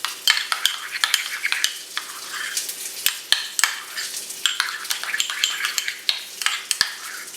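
Butter and jelly mixed together in a bowl, with quick, close clicks and scrapes of a utensil in a rapid irregular rhythm and a soft wet texture between strokes, with no talking.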